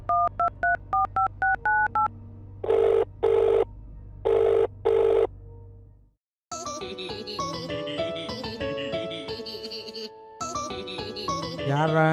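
A telephone keypad beeps through a quick run of short DTMF tones, then four longer tone bursts play over a low hum. After a brief silence a musical ringtone begins and plays on loudly.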